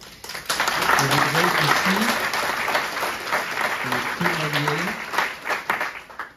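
An audience at a celebration for Saint-Dominique's thirtieth anniversary breaks into applause, with a voice speaking over the clapping and the sound fading toward the end.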